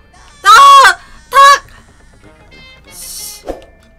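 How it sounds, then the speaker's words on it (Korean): Chickens in the video game ALTF4 let out two loud, harsh squawks in quick succession, followed by a softer rustling burst and a short thump. "닭, 닭, 닭!"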